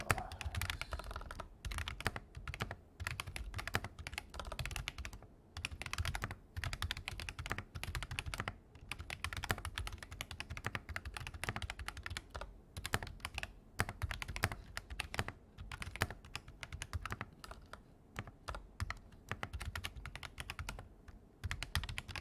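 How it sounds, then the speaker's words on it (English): Mechanical keyboard fitted with MSA profile keycaps being typed on steadily and briskly, close up, a dense run of clacking keystrokes lasting the whole stretch with no voices. "And if the keyboard is too loud,"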